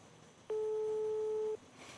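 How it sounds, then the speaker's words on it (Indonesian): A hospital telephone line goes unanswered: a single steady electronic tone, about one second long, sounds alone over quiet room ambience. "telepon perawat, jaganya nggak diangkat"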